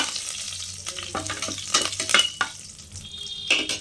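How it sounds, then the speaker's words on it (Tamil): Curry leaves crackle and sizzle in hot oil over spluttered mustard seeds for an Indian rice-and-lentil dish, with steady frying hiss, a few sharp pops and light stirring clinks, close and alone. "நம்ம ஒரு கைப்பிடி அளவு கருவேப்பிலையை போட்டுக்கலாம்"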